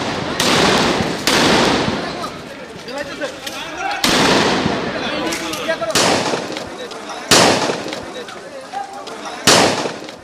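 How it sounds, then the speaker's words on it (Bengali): During street clashes between protesters and police in Chattogram's New Market area, tear gas shells, sound grenades and gunfire go off in about six sharp, loud blasts at irregular intervals, each followed by a rumbling echo. "এ সময় তাদের ছত্রভঙ্গ করতে টিয়ারশেল, সাউন্ড গ্রেনেড ও গুলি ছোড়া হয়।"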